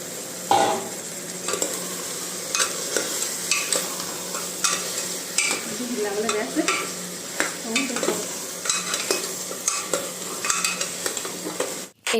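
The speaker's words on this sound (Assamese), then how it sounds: "এনেদৰে লেগ পিচ দুটা 10 মিনিটমান সময়ৰ বাবে মিডিয়াম ফ্লেমত লৰাই ভাজি থাকিম" Marinated chicken leg pieces for biryani sizzle and fry in a pan over a medium flame, while a utensil stirs them with repeated scraping strokes over the constant crackle. The frying is close and steady, and nobody talks.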